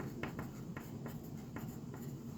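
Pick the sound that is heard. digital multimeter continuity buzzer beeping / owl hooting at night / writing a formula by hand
writing a formula by hand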